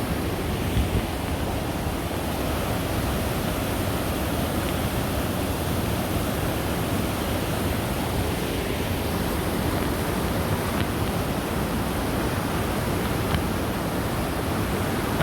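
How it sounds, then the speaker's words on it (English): Whatcom Creek in downtown Bellingham, Washington runs high and fast under a big bridge, its broad, steady roar of rushing water filling the whole stretch with no talk over it. "I'm sure you can hear this, but that water is coming fast and furious"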